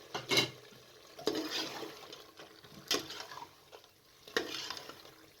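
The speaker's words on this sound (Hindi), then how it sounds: "अरवी डालकर आपने तकरीबन 5 से 7 मिनट तक अच्छे तरीके से इसे गोश्त के साथ फ्राई कर लेना है" Taro root and mutton fry in a pot with a soft background sizzle, while a spoon stirs and scrapes in four distinct bursts, close and fairly quiet.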